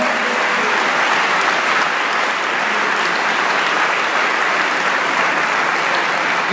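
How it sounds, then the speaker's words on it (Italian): Continuous, dense applause fills the room at the Dall'Era company's 50th anniversary celebration, a broad wash of many hands clapping at even volume from start to finish, with no voices breaking through. "io credo che un applauso tutti noi dovremmo darci"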